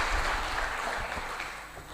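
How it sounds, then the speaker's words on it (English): A brief wash of applause from a conference audience in Malawi, dense and steady, fading slightly toward the end. "May we also have another round of applause"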